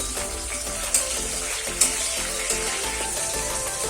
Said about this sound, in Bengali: টমেটোটা ভাজা ভাজা করবো।